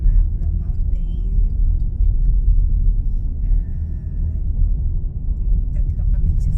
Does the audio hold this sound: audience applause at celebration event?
no